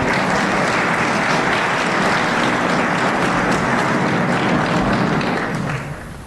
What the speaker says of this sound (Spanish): démosle un fuerte aplauso a la doctora Ana Güemes García